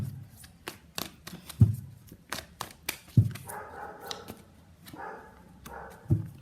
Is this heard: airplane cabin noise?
no